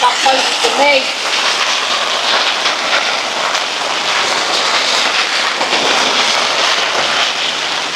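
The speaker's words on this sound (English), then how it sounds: "It's raining." Steady rain shower drumming on the plastic skin of a greenhouse, a dense continuous hiss that stays loud and even throughout, with a brief voice near the start.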